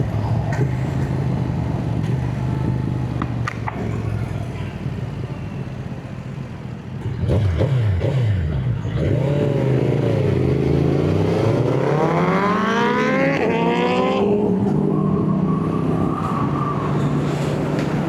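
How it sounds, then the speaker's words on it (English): A 2025 BMW S1000 M Sport motorcycle at a street bike night revs hard nearby, its engine note climbing in a long rising sweep over a steady idling rumble and background traffic. "that's actually a 2025 BMW S1000 M Sport"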